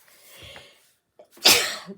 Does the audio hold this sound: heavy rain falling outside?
no